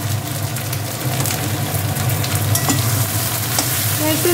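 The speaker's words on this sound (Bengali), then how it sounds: "একটু নাড়াচাড়া করে নেবে।" Salt and turmeric frying in a pan while being stirred, a steady sizzle with scraping stirs and occasional clinks, close and continuous.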